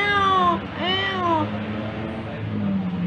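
A kitten meows twice in quick succession, close and clear, high rising-falling calls followed by a quieter drawn-out mewing over low room noise.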